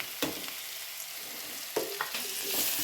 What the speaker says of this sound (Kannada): ಈಗ ಆಗಲೇ ಕಟ್ ಮಾಡಿ ಇಟ್ಟಿರೋ ಪೊಟ್ಯಾಟೊ ಹಾಕೋ ಗೈಸ್